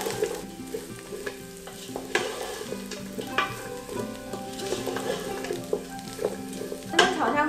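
Taro cubes are stir-fried in a pot for a vegan taro congee, giving a steady sizzle with repeated scraping and stirring strokes and occasional utensil knocks against the pot.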